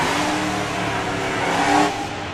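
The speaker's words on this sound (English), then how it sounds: "This is one noisy E36." A noisy BMW E36 drift car roars at a drift championship qualifying run, its engine loud and close, holding a high rev with a brief rising surge near the end.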